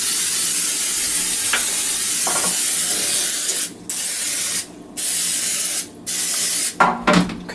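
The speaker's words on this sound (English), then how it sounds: "I'll give this a quick spray just so it's a little easier to clean everything up" Cooking spray from an aerosol can hissing into a 9x9 baking pan, several close, loud bursts with short pauses between them and a quick final pair of sprays.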